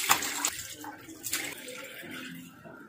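Tap water runs and splashes irregularly close by as a face is rinsed, with uneven gushes and patters over a few seconds.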